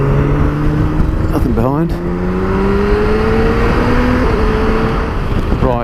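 A 2017 BMW K1600GT touring motorcycle accelerates up a motorway, its engine note climbing steadily through gear changes under heavy wind rush, while the rider speaks briefly from the saddle.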